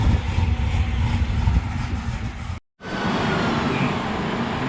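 Supercharged 7.3L Godzilla V8 in a black stick-shift Corvette Z06 with a choppy cam, idling loud and lumpy up close, broken by a brief dropout before the rough idle resumes.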